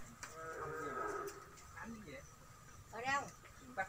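Cattle at a Vietnamese cattle sale and delivery: several faint moos and lowing calls, one long and others shorter, rise at a distance, with people talking nearby.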